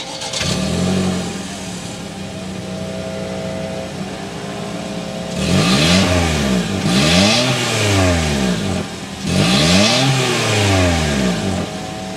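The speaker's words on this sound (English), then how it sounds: "start it up so you can hear that exhaust now." A 2023 Toyota Corolla Cross XLE with a 2.0 engine starts with a short crank and settles into a steady idle, then the exhaust is revved up and down three times, close and loud.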